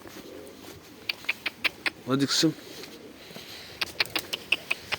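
Pigeons flap their wings sharply and coo softly in quick bursts, with a brief spoken phrase in the middle.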